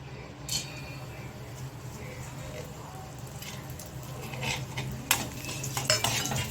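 Dry fruits roasting in ghee in a pan are stirred with a utensil, faint scraping and clinking over a low sizzle, with a few sharper knocks of the spoon against the pan near the end.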